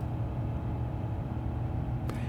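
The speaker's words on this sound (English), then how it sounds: "Nice engine sound." Engines of an Airbus A350-1000 spooling up for takeoff in Microsoft Flight Simulator 2024, a steady, moderately loud low rumble and hum that holds evenly throughout, with no talking.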